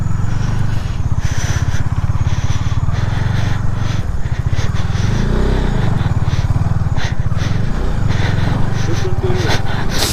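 A KTM Duke 390 motorcycle runs on a rough mountain road in winter with its engine thrumming steadily and loud throughout. Wind and bumps rattle through the sound.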